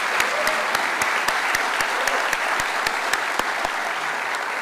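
Applause from the audience at an economists' week event, a steady wash of clapping with a few sharp, regular claps standing out, continuing for several seconds.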